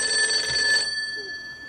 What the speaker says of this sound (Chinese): 你来电话